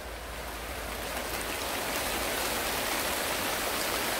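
Steady rain falls and patters continuously on surfaces, a dense even hiss that grows slightly louder, with no voices.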